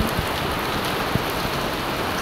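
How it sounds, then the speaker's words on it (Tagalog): Heavy rain pours in a dense, constant hiss, with scattered drops pattering close by. "Ang lakas ng ulan."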